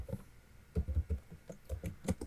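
Close typing on a computer keyboard while entering text into a Microsoft Word cover page, a quick irregular run of soft clicking keystrokes.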